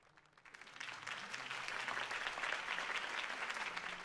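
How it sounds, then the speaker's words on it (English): A campaign rally crowd in the video game Batman: The Telltale Series breaks into applause, swelling from a faint start into steady, dense clapping that holds to the end. "could have heard that applause"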